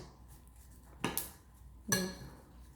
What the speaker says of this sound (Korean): 한번더 섞어줍니다.